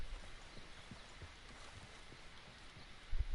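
Horse hooves clip-clopping in the game Red Dead Redemption 2 at a camp, soft and fairly distant steady steps with a slightly louder thud near the end, no talking.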